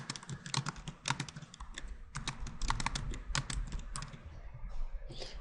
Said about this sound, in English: I'll just type that up.